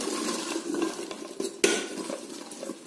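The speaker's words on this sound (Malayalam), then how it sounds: "ചാമ്പങ്ങ കഴുകി മുറിച്ച് ഇത് കുക്കറിലേക്ക് ഇട്ടിട്ട്" Washed, cut rose apples dropped into a pressure cooker, giving a few light clatters and knocks of fruit and metal over a couple of seconds, close by with no talk.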